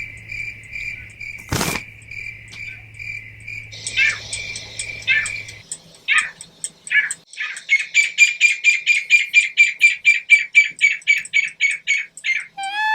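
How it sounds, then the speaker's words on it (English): A bird calls outdoors in Hawaii, first in a few spaced chirps and then in a fast run of loud, evenly repeated notes that build into a steady rhythmic series, alone with no talking over it. "some weird quack quack bird"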